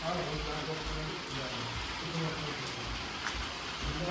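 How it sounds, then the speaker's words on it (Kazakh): Light rain falls in a steady soft hiss during a brief passing shower, faint and continuous with a low background hum. "Бұл жақта жаңбыр жауып тұр."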